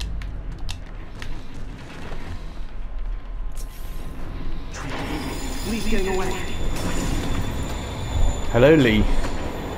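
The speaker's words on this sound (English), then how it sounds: "He plans to use the train." A train in the Marvel's Spider-Man video game creaks and rumbles with squealing metal wheels that grow louder toward the end, under people talking.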